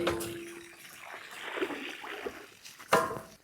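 Water being emptied out of a sagging shade cover, splashing and pouring in uneven gushes with a louder spill near the end.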